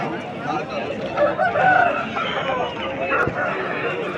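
A rooster crows at a busy chicken market in Vijayawada, set within a steady bed of crowd noise and nearby birds, with people talking around it.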